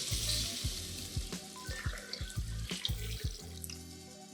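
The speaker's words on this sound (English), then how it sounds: "Adding about 5 cups of water here." Water is poured into a hot pot of sautéed black beans, a steady splashing gush over lingering sizzle, close and continuous for a few seconds.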